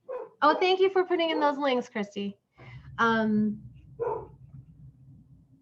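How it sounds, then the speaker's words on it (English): A farm dog barking during a winter poultry workshop, a couple of short yips heard faintly in the background while someone talks over a call. "That's our dog barking right now."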